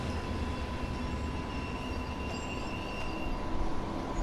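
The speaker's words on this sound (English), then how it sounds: "wait for this passenger train to pass." In the Train Sim World game, a passenger train rolls past as seen from a DB class 155 locomotive, a steady, moderately loud rumble of wheels on rails with a faint high whine.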